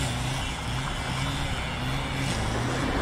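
A semi-truck stuck in mud on a highway where the embankment collapsed, its engine droning loud and steady as it strains to pull free, with continuous road and machine noise around it.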